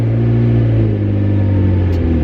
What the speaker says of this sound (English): It's got the signature McLaren sound